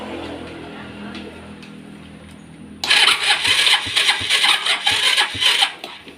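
Honda Step 125 scooter with a weak battery: quiet ticking and faint hum for about three seconds, then the engine suddenly catches and runs loudly and roughly at a close, uneven idle for the rest.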